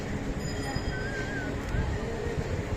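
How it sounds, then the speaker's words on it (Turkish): A Taksim tram on a crowded İstiklal Avenue in Istanbul rolls past with steady rail rumble and a brief squealing wheel tone, heard close amid dense street bustle. "Bu da bizim meşhur Taksim tramvayımız."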